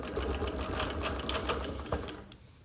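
Domestic sewing machine quilting a sampler quilt, moving back and forth between sashing and block, a fast steady needle chatter for a couple of seconds that slows and fades at the end.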